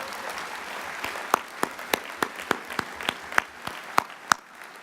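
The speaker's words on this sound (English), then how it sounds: "Give your president a great round of applause." Applause from a union audience of postal workers at a convention address, a bed of crowd clapping with sharper individual claps standing out irregularly, moderately loud and continuous throughout.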